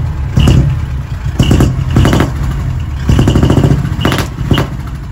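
A customized double cab truck engine with a split exhaust manifold running loud and close, a rough throbbing idle with repeated sharp revving bursts and a clattering exhaust note.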